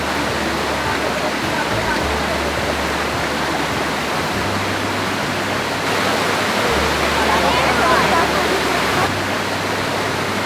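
A waterfall near Ella, Sri Lanka, roars steadily up close, a dense, unbroken rush of falling water that stays loud and even throughout, with a low rumble underneath.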